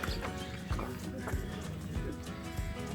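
Horse hooves clip-clopping at a luxury farm resort in Ooty, steady repeated thuds at a moderate distance, heard under people talking.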